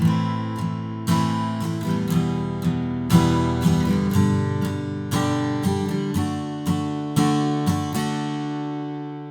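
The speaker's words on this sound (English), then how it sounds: "we're going to apply that strumming pattern" Guitar chords strummed in a steady repeating rhythm for a song, each attack ringing out clearly, played alone and up close with no voices.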